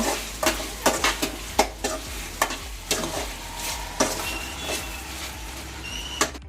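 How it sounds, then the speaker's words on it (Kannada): Gobi manchurian, street-style cauliflower, frying in a pan: a continuous sizzle punctuated by a regular series of sharp spatula clanks and scrapes, close and fairly loud, no speech. "ನೋಡಿ ವೀಕ್ಷಕರೇ, ಇವಾಗ ಗೋಬಿ ರೆಡಿ ಆಗ್ತಿದೆ."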